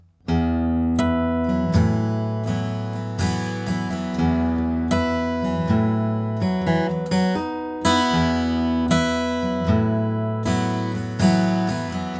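An acoustic guitar strums a chord progression with a steady rhythm of down and up strokes, and chords change every few beats, played alone and close.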